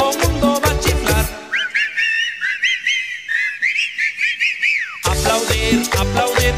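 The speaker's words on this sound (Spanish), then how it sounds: "Todo mundo va a chiflar." Several people whistle a bright, wavering melody together in the middle of a cumbia song, the whistling loud and sustained for about four seconds between stretches of the band playing.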